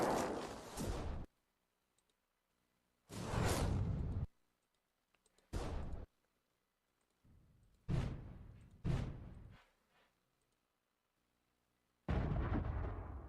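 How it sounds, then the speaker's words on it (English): Explosion sound effects auditioned for a game, several separate booming bursts, each loud and full-bodied, cut off abruptly and separated by silence, with a final blast at the end. "Explosion."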